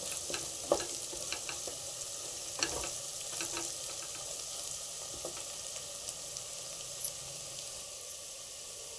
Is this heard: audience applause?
no